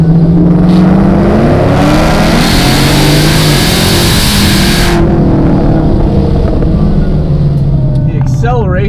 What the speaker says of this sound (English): The acceleration on this thing is just brutal.